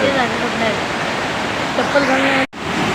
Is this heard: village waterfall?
yes